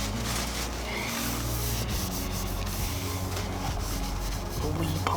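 Steady close rubbing and buffing as silver chrome trim on an MG Midget is polished by hand, a continuous dry scrubbing without breaks.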